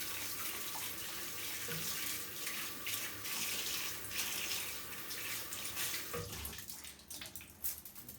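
Warm water runs steadily from a tap as hands are rinsed, a continuous broadband splashing hiss that carries on alone for several seconds before easing into a more broken, spattering flow near the end.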